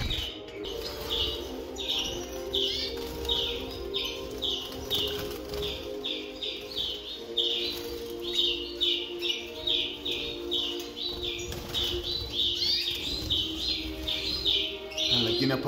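Goldfinches (parva) chirp and twitter steadily in a breeding aviary at the end of the season, bright repeated calls overlapping throughout with occasional wing flutters under a constant background hum.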